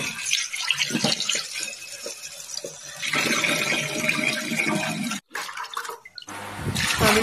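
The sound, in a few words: washing cut jackfruit seeds in water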